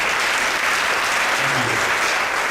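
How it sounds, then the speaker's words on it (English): An audience gives a full round of applause, dense, even clapping that stays loud and steady throughout, with no voices standing out. "Let's give one more round of applause."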